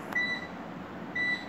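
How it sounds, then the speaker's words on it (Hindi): Two short electronic beeps from a washing machine's end-of-cycle alarm, evenly spaced about a second apart, clear and close over a quiet room hum. "ये अलार्म दे रहा है कि कपड़े पूरी तरीके से वॉश हो गए हैं"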